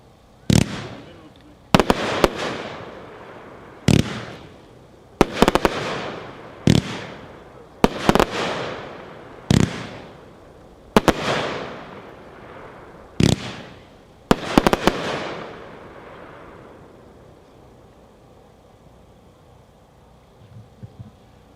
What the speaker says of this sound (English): Number 8, Colorclasm by Mad Ox, packed 4-1, 25 shots.